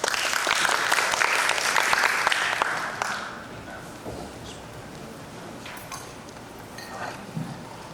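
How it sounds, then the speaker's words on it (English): Audience applause for a contestant at a Thailand public speaking competition: dense clapping for about three seconds, then fading into quieter scattered claps and room noise. "Please give him a round of applause."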